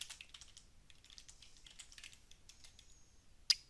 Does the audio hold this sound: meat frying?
no